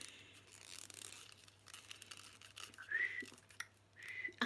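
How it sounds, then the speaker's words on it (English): Someone tries to whistle, producing breathy rustling and then two short, thin whistle notes, close and faint over quiet room noise. "I can't even whistle."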